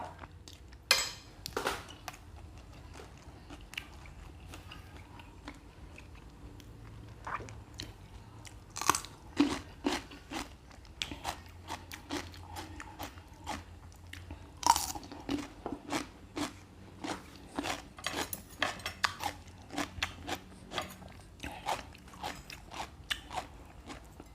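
Crunchy fried catfish being eaten by hand, with loud, close crisp bites and crunches repeating irregularly throughout, a few chewing sounds and occasional light dish clatter between them.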